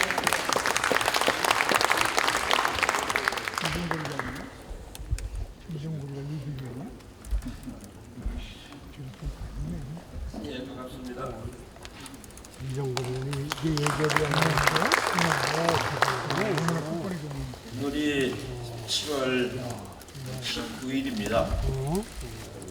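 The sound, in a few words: warm applause welcoming the party leader at a meeting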